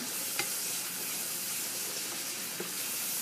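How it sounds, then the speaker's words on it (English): Garlic sizzling in a hot frying pan for Cuban-style empanada filling, a steady close hiss of frying with a few faint scrapes of stirring, no talking. "Keep stirring it."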